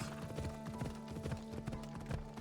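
Horse hooves clip-clopping in the Assassin's Creed video game, a steady, fairly loud rhythmic trot with repeated hoof strikes over a busy game soundtrack, with no voices.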